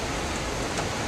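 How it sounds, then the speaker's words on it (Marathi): Rain falls steadily outdoors during a Maharashtra monsoon-like May shower, a dense even hiss of drops across the whole moment with no talking. "आता तर पाऊस पडायला लागलाय."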